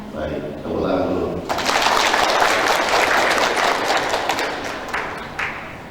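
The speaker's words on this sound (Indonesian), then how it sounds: "Baik, tepuk tangan dulu." A classroom group of children claps together after a Quran recitation lesson, a burst of applause that swells and holds near, with a voice over it at the start.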